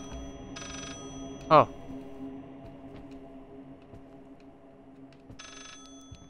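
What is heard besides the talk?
telephone ringing in video game Layers of Fear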